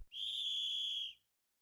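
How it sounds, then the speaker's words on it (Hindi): A single sustained referee's whistle blast at a kabaddi match, shrill and clear, lasting about a second and heard alone before falling silent. "सीटी बजती है, तनावपूर्ण मौन को चीरती हुई।"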